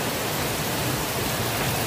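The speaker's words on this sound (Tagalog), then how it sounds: "Umuulan pala." Steady rain falls outdoors at night in a dense, even hiss with no breaks, moderately loud across the short stretch and with no voices over it.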